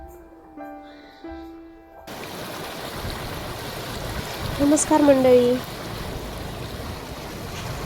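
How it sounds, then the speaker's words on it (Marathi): Heavy rain and flowing water roar steadily after a brief greeting, with someone speaking over the constant wash of the downpour. "आमच्या इकडं तर खूप भयंकर असा पाऊस आहे"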